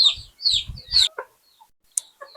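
Native backyard chickens being fed in the morning give a few close clucks and short calls, followed by quieter scattered pecking taps and brief chirps with gaps of silence.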